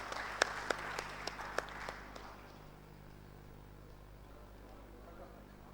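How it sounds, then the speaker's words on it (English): An audience at a Kolkata conference event claps to welcome a panel onto the stage, a short burst of scattered, fairly distant applause that fades out within a couple of seconds, leaving a quiet room. "warm round of applause to this wonderful panel"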